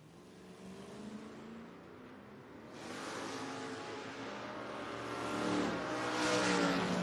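Drag racing cars, one of them a Nova, launch down the strip at a footbrake drag racing event, a steady engine roar that swells louder in stages and peaks toward the end, heard from a distance with broad track noise.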